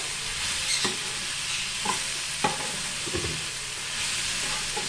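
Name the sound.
stirring coriander into frying brinjal and ivy gourd chutney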